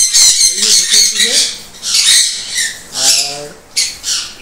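Pairs of sun conure parrots squawk loudly and close by, a series of harsh, shrill screeches in uneven bursts with brief pauses between calls.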